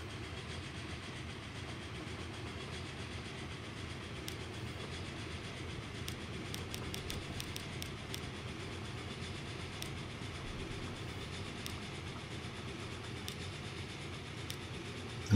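Train running on a line in the Transport Fever 2 video game, a steady rumbling roll with faint rhythmic clicks of wheels on track, continuous and even throughout without speech.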